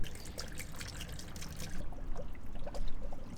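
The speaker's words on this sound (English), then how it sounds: "I can try and flush the coolant just with water." Water trickling and pouring into a car's cooling system through a coolant filling kit while the coolant is flushed, a steady close splashing flow that thins out partway through.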